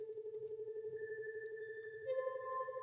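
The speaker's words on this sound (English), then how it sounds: "So this one's really cool, kind of a little humming type sound there." A soft humming synth pad sits in a music mix, a sustained steady tone with gentle pulsing and a brighter layer joining near the end, quiet and smooth with no voices.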